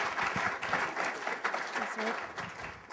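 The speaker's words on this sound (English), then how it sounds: "How about a round of applause for her?" Audience applause at a startup presentation event, a short burst of brisk clapping from a room of people, steady and close throughout.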